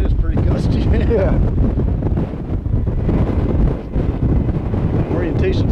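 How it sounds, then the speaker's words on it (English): Gusty outdoor wind batters the microphone in loud, continuous rumbling buffets that swell and dip, with a person talking underneath at times. "it is pretty gusty"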